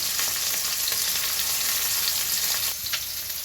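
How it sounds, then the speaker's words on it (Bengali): Fish frying in hot oil for a mashed fish bharta, giving a dense, close, even sizzle with a slight dip and a few crackles toward the end, no voices. "মাছটাকে ভালো করে আগে আমি ভেজে নেব।"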